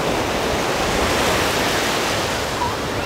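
Strong wind off the sea and steady surf at a crowded beach in Anapa, heard as a loud, even roar with no breaks and no talk.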